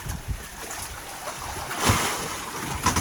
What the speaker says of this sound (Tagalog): Lalaki pa naman ang alon.